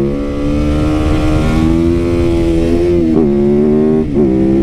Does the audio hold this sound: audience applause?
no